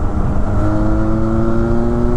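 A Benelli 502C motorcycle engine revs hard above 6,500 RPM while accelerating on the road, giving a loud, close, steady droning whine with no speech over it.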